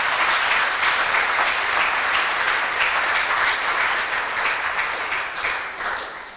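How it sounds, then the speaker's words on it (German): Audience applause at the opening of a contemporary textile art exhibition in a museum, dense sustained clapping from a crowd that fades slightly toward the end. "noch besser als der Applaus, der jetzt gleich donnernd und schallend kommt"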